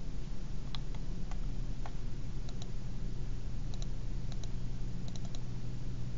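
Small computer mouse clicks come in quick pairs, faint and scattered over a steady background hiss, during work in Revit architectural software.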